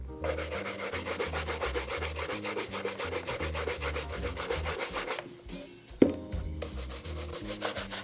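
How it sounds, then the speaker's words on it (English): A pig bristle brush scrubs pebble grain leather shoes in steady, brisk back-and-forth strokes, a close, rhythmic rasping that continues almost unbroken with a short pause and a light knock partway through. "I'm using a pig bristle brush with white bristle."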